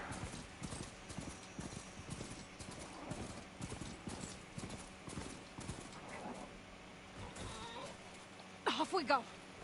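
Steady clip-clop of hooves at a walking pace, fairly close, with a brief whinny near the end; Horizon Forbidden West game ambience underneath.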